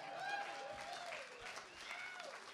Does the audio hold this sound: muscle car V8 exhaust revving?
no